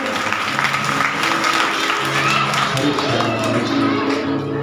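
Scattered applause from a small audience at a Bhagwat Katha religious discourse, a few hands clapping steadily and fairly close, with a faint crowd murmur beneath.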